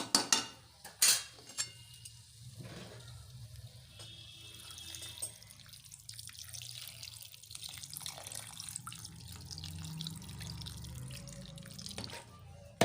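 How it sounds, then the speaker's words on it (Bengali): Water is poured into a pan of vegetables that have been sautéed with spices, a Bengali pumpkin, bori and potato dish, giving a steady running and splashing sound that fills most of the clip after a few sharp knocks at the start. "এবার এর মধ্যে জল দিয়ে দেব।"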